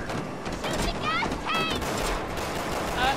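Rapid gunfire bursts in Resident Evil 6 as missiles are shot down, with mechanical clatter and chirping game effects and repeated volleys under continuous game action.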